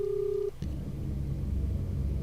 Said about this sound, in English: Well, it's ringing.